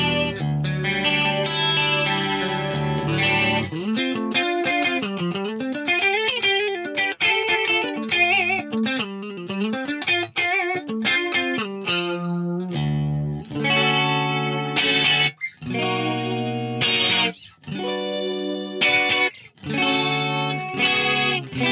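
Guitar notes run through a TC Electronic G-Force DSP unit's modulation effect with depth, feedback and cross-feedback settings, giving a swirling, sweeping chorus-like wash over melodic phrases and chords, loud and alone for about twenty seconds.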